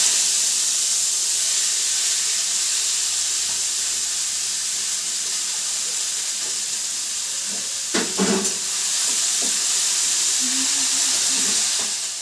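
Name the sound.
pumpkin pieces sizzling as they go into hot oil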